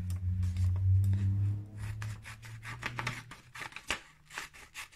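Scissors snipping through paper to cut out printed words, a run of short crisp cuts with a low hum underneath at the start, close and fairly quiet.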